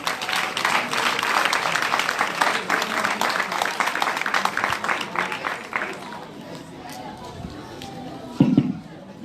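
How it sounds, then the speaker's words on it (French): A church congregation acclaiming an inspector at a sermon, with sustained dense clapping and crowd noise that fades after several seconds into a quieter room with a brief voice. "Donc on acclame l'inspecteur Soroki."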